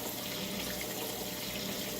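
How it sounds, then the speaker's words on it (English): Hot water poured over dried chilies while making chipotle habanero hot sauce, a steady, close, continuous splashing pour with no talking. "we're going to take 3/4 of a cup of hot water. We're going to pour this"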